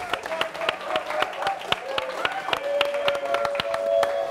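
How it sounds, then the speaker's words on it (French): Studio audience applause on a French midday radio-TV show as a singer is welcomed: steady, fairly close rhythmic clapping from a small crowd, with voices talking over it. "On applaudit, public."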